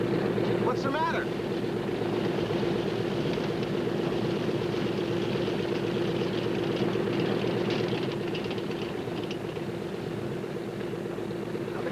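Aircraft engine running steadily in a 1982 adventure series scene, a continuous low droning hum that stays loud and even throughout, with a brief higher chirp near the start.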